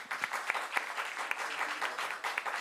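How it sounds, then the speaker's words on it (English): An audience at an Indo-Japan people-to-people conclave applauds its panelists: steady, moderately distant clapping from a mid-sized crowd, with a few sharper claps standing out and no talk over it. "I would like to request you to big applause."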